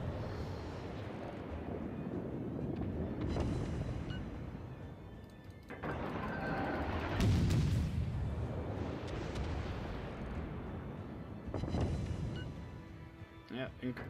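Heavy warship guns boom repeatedly in World of Warships naval combat, with several loud deep blasts and rumbling roars rolling over a continuous battle din, under a player's talk.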